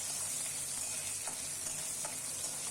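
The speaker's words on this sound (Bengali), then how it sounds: "সামান্য একটু নুন দিয়ে আলুটাকে একটু নাড়াচাড়া করে তুলে রাখবো" Lightly salted potatoes fry in a pan, giving a soft, even sizzle close by, with a couple of brief stirring scrapes along the way.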